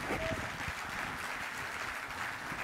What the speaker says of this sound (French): un tonnerre d'applaudissements pour Tai Young.